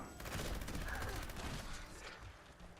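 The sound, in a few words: bullets bouncing off character in Fallout 76 video game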